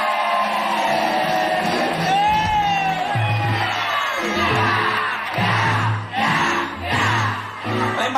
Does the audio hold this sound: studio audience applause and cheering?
yes